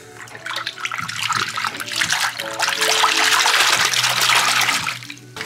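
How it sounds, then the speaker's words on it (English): Water pours loudly and steadily into a pan of gold and silver paydirt as surfactant is added, a close, sustained gushing splash that swells in the middle and eases off at the end. "Oh, I gotta add some surfactant."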